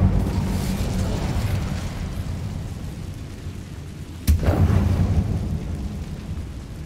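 In the video game Hogwarts Legacy, a fire spell, Incendio, goes off as one sudden burst partway through a low, rumbling background of game ambience, with no talking.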